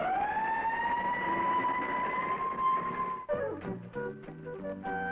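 An army fire engine's siren wails steadily and loud as the truck pulls out, then breaks into rising and falling tones with engine rumble beneath.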